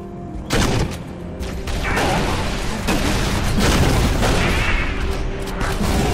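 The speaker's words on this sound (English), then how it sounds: "that grenade launcher does not really do that much against personnel" Repeated heavy booming grenade launcher explosions in Halo: Reach, one sharp blast followed by a rapid, loud barrage of overlapping detonations and crackling bursts.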